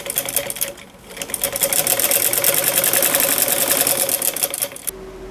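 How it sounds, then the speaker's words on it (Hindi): A sewing machine stitches along the edge of a sleeve, running in a steady, fast rhythmic whir that pauses briefly at the start, then continues loud and close before stopping abruptly near the end. "अब मैं एक सिलाई इस वाले किनारे के ऊपर से भी लगाऊंगी"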